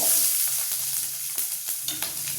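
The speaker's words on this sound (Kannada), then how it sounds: "ಎಣ್ಣೆ ಕಾದಿದೆ. ಸಾಸಿವೆ ಮತ್ತು ಜೀರಿಗೆ ಹಾಕ್ತಾಯಿದ್ದೀನಿ" Mustard seeds, cumin and onion hitting hot oil in a pan, a bright crackling sizzle with small pops and spatters over a brief stretch, close and fairly loud, without speech.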